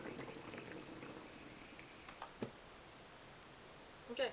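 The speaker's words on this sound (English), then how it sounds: "There you go, hot water coming out instantly." A Morphy Richards One Cup hot water dispenser pours freshly heated water into a cup, a faint hissing, bubbling flow that fades into quiet with a few small ticks and a soft clink near the end.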